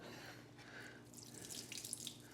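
Water drains in a faint, steady trickle and splash from the intercooler of a Subaru WRX that exploded at the track, heard up close and alone.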